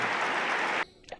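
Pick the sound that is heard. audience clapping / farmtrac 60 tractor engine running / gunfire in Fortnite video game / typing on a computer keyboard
audience clapping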